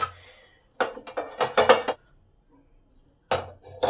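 Clanking metal from a large kadai being set out and handled in a home kitchen for steaming an oil-free breakfast, a few sharp clinks and knocks in two bursts separated by a quiet gap.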